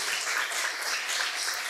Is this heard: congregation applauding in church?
yes